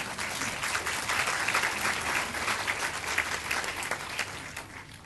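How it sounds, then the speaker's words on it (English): Audience applause at a community conference talk, sustained dense clapping from a sizable crowd that holds steady, then thins slightly toward the end. "Thank you for the applause"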